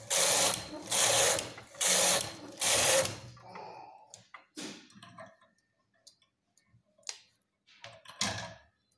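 A knitting machine works rows of a sweater design. Four loud rhythmic carriage sweeps come first, followed by scattered mechanical clicks and clacks as the machine is reset between passes, all close by.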